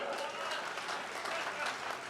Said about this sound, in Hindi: बात समझ में आ गई तो ताली बजाओ भाई।